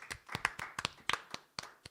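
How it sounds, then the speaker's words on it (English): Sparse, scattered clapping from a small audience at a songwriters-in-the-round performance honouring Rob LeBlanc, a handful of separate hand claps in an uneven rhythm, fairly quiet and close. "And everybody give a big round of applause to Rob LeBlanc."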